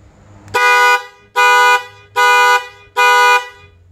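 Toyota Vios car alarm horn blasting loud after its module was replaced: four long, even honks close by, each about half a second, separated by short gaps.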